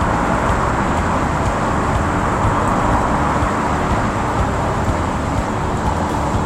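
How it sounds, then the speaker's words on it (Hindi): Car driving through a road tunnel on the Delhi to Ladakh route in the mountains, a steady, loud, enclosed roar of engine and road noise that holds constant throughout with no talk. "देखिए अच्छा साउंड इसके अंदर आ रहा है गाड़ी का।"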